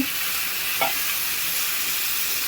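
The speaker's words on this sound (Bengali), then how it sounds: "সব কাটা আছে একসঙ্গে একটু হালকা নেড়ে চেড়ে নেবো" Chopped pui shak, pumpkin, carrot and potato sizzle steadily in a hot pan for a Bengali ghonto, a constant frying hiss with a single soft stirring scrape near the start, no voices.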